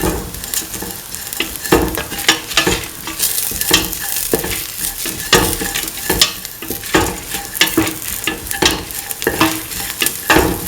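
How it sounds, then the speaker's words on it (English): A potato and coconut milk rice mixture is stirred in a pan, with repeated scraping strokes in a steady rhythm over a faint sizzle, close and clear with no talking. "Thoroughly mix."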